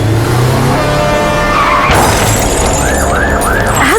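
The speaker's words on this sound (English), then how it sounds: "he overtook a car and smashed his car right into a truck coming from the opposite side of the road" A car overtaking on a road slams head-on into an oncoming truck: loud engine rush, then a sudden crashing impact with shattering debris and metallic clatter, alone and close.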